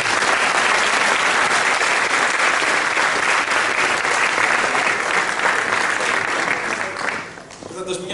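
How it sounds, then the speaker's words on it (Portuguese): Loud, dense applause from a conference audience at a closing session, sustained clapping that drops off near the end as a voice begins. "uma salva de palmas."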